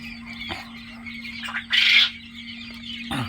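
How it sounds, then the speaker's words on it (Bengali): Japanese quail chicks about three weeks old call inside a farm shed, a few short squawks and one louder harsh call over a constant low electrical hum. "আর এখানে রাখছি আমরা প্রায় 22-23 দিনের কোয়েল পাখিগুলা।"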